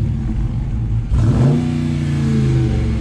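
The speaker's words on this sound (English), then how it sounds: "Give her a little rev real quick" A Maserati MC20 idles briefly, then its engine is revved sharply. The note rises to a loud, sustained growl that holds steady, close by.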